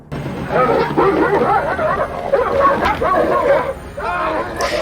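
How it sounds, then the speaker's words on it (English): A dog barks and yips repeatedly in a scene from The X-Files episode "Ice," the barks loud and close, mixed with people talking throughout. "Oh, there's a dog in this one too!"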